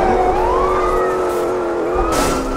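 A police car siren wails in GTA San Andreas, loud and steady, its rising and falling tone sweeping over constant car engine noise throughout.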